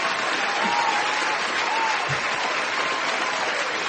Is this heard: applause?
yes